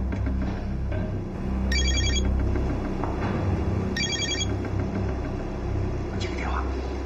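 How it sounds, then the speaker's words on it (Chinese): A telephone rings in three short, bright bursts spaced about two seconds apart over a low indoor hum, with faint murmuring in the background. "接个电话。"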